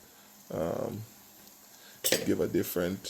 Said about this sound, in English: It's not like flapping. You know, it's just slow frying.